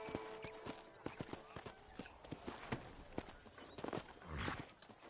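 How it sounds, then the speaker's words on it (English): Horse hooves clip-clop in Red Dead Redemption on PS4, a quick run of sharp, close hoofbeats in uneven rhythm, with a brief scuffling burst near the end and a possible voice underneath. "Come on, slow horse."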